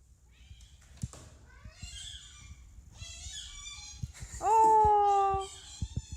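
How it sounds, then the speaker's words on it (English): A cat lets out a loud, drawn-out meow that sounds like a squeaky toy, preceded by a few softer chirps, with people talking quietly around it. "This cat sounds exactly like a squeaky toy."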